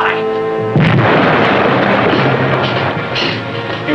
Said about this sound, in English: Two hits, number one and four torpedoes. You hear that, boy? We hit her bullseye!